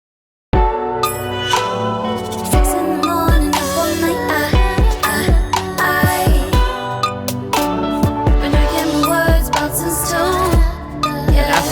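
Unprocessed electric guitar mix in Ableton 10, a full band-style passage with sustained distorted guitar chords and steady drum hits, loud and continuous throughout with no talking.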